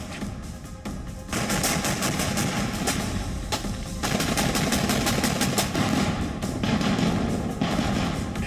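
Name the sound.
Russian tank firing shells in Mariupol, gunfire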